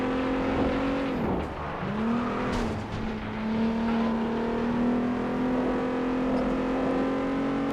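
Race cars in the PS2 game FlatOut 2, a desert cup race, hold a steady, loud engine drone with a brief dip and rev, the cars whining continuously close by.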